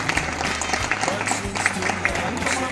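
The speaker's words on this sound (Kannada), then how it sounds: "ಜೋರಾದ ಚಪ್ಪಾಳೆ" Steady crowd applause at a school English quiz program, a dense patter of many hands clapping with a few louder claps poking through, continuing evenly.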